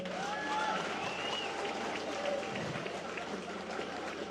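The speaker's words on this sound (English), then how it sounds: "Round of applause to that." A crowd at a memorial celebration gathering bursts into a round of applause, dense clapping mixed with cheers and voices that runs steadily throughout.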